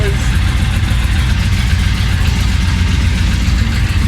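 A 1966 Chevy Impala engine runs steadily while driving on the highway, giving a loud, continuous low rumble with road noise and no clear breaks.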